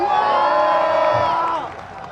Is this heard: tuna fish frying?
no